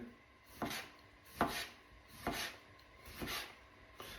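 A knife cuts small green tomatoes into rounds on a board, giving four evenly spaced crisp slicing strokes roughly a second apart, close and clear with no talk.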